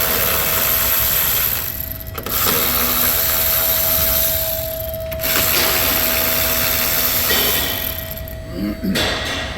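Under the hood of a car, a power tool breaks strut top nuts loose in three loud, sustained whirring bursts with short pauses between them, close up, with a steady hum running underneath.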